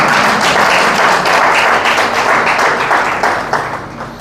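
Loud, sustained applause from a church congregation fills the whole stretch, dense overlapping claps that thin out slightly toward the end.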